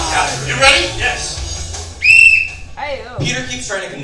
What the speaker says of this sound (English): When I blow this whistle, you start